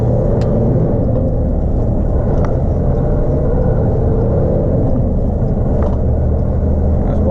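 A MAN TGN truck with a manual gearbox drones steadily as it drives, a constant loud low rumble with faint clicks and no voices.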